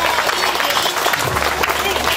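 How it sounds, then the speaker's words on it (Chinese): A crowd at an indoor event claps in a dense, continuous burst of applause that stays loud throughout, with voices mixed in. "掌声鼓励鼓励"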